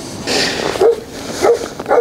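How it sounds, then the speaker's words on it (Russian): A dog out on a walk in warm weather gives several short yips and barks, close by, spaced across a couple of seconds with faint ambient noise between them. "Вот, друзья, собака гуляет, она даже идти не хочет."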